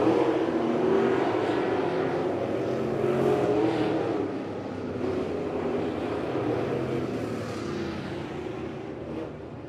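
Race cars roar through a heat race at Lebanon Midway Speedway, a loud, continuous blend of several engines that swells and fades slightly as the pack passes out of a turn.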